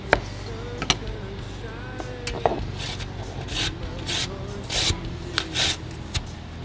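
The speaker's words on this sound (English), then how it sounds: "So we're gonna grate the potato." Potato with the skin on being grated in a kitchen, a run of scraping rasps growing rougher and denser toward the end, close-up with no talking.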